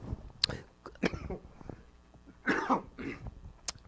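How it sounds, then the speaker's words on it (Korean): A few sharp coughs and throat-clearing bursts, close and fairly loud, spaced irregularly across a few seconds with no speech over them. "요즘은 이제 기침하는 것도 참 겁이 나서 그죠?"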